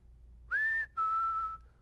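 Two clear whistled notes in quick succession, the first rising then holding, the second a longer steady tone gently falling, alone over quiet background.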